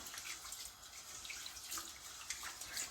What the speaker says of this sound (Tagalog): huhugasan natin yung 1 cup of rice. Hugasan natin ng 2 beses.